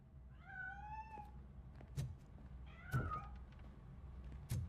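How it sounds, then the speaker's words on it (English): A cat meows in the video game RoboCop Rogue City as it escapes, two drawn-out rising meows near the start and another at about three seconds, with a few sharp knocks and taps in between, moderately close and quiet, with no talk. "That cat must be hiding inside."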